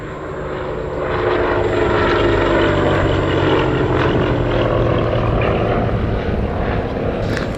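Hawker Nimrod biplane, a Mark 1 naval fighter, flying at the Duxford Battle of Britain air show, its piston engine and propeller droning loudly and steadily throughout, swelling slightly as it passes close by.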